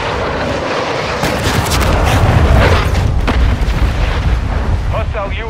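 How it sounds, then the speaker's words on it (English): Cruise missile strike in the Modern Warfare video game, a heavy booming rumble with blasts and crackling debris that swells and lingers for several seconds, loud and close, with a brief voice near the end. "Hostile cruise missile incoming."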